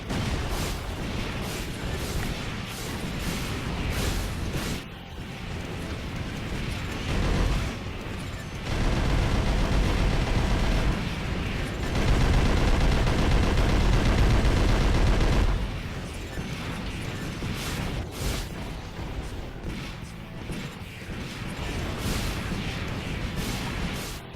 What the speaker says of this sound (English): with the grenade launcher